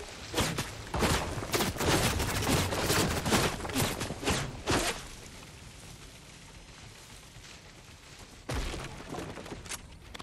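Rapid bursts of video game gunfire crackle in dense clusters for several seconds, fade to a quieter stretch, then return with a few more sharp shots near the end.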